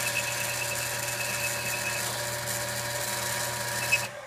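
Cutter spinning as it reams a fresh bushing in an SU H type carburetor, a steady high-pitched whine with a constant drone close by, running continuously and stopping abruptly at the end.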